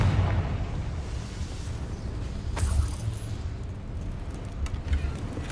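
A Confringo blasting spell goes off in Hogwarts Legacy, a rumbling explosive burst with a sharp crack partway through, rolling low roar and scattered pops after it.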